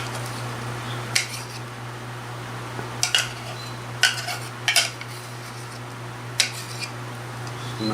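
Ripe bananas being mashed in a bowl for banana bread, heard as scattered clinks and scrapes of a utensil against the bowl over a steady low hum, with no talking.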